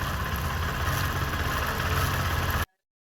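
A motorcycle engine with a slack, jerking drive chain runs at a steady, rumbling idle up close, then cuts off abruptly into silence.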